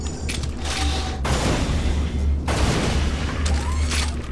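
Bio rifle fire in the Unreal Gold game during a co-op session, a dense, continuous run of wet blasts and booming shots over a steady low rumble, loud and close, with brief drops between bursts.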